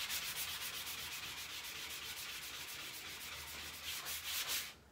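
Sandpaper scours the top coat off a painted furniture hutch in quick, steady back-and-forth strokes, close and continuous with no one talking.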